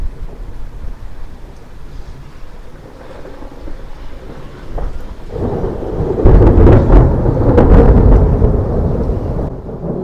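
Deep rolling thunder from a storm with lightning strikes over Blackpool, swelling from a distant rumble into a loud, sustained roar over steady rain and wind, with no talking.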